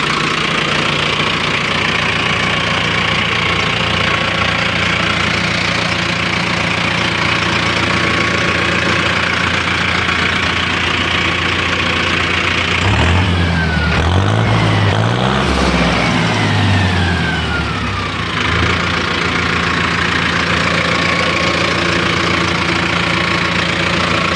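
A Mahindra Novo 605 tractor diesel engine idles steadily with a loud, even knocking rumble throughout, and a brief swelling rattle partway through.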